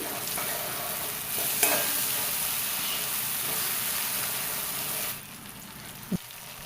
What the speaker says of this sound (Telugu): ఇలా వాటర్ వేసేసుకొని ఒకసారి బాగా మిక్స్ చేసుకోండి